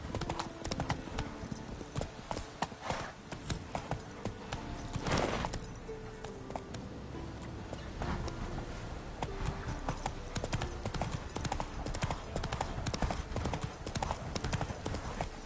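Roach the horse galloping in The Witcher 3, a fast rhythmic clip-clop of hooves running steadily throughout, loud and close, with a brief burst of louder noise midway.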